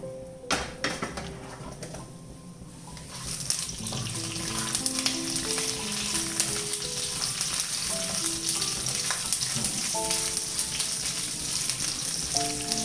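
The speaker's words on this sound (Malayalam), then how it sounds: "ഉഴുന്നുപരിപ്പോ അരിയോ നമുക്ക് വറുത്തിടാം." Urad dal and mustard seeds frying in hot coconut oil for a tender jackfruit thoran give a continuous, close crackling sizzle that swells after a few seconds and holds steady, with faint tonal music running underneath.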